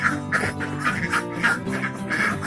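Laying ducks in a pen quack repeatedly in a busy, overlapping chorus, loud and close, with no talking.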